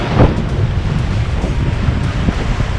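Strong wind buffets the microphone aboard a sailboat crossing the Atlantic under gennaker at 8 to 9 knots, over a steady wash of waves and rushing water, loud and continuous, with no one speaking.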